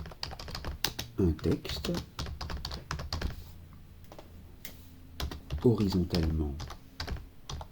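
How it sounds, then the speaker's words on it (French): Fingers clatter on a computer keyboard in quick bursts of close, light clicks, pausing between runs, while someone speaks French over much of it. "Je tape centrer"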